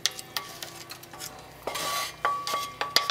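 Sausage frying in a pot is stirred with a utensil, giving sharp scraping clinks against the metal over a soft sizzle, close and fairly quiet.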